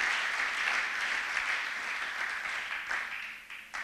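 A church congregation applauds together during a French and Lingala worship service, a dense, steady roar of many hands clapping that continues without a break and swells slightly toward the end.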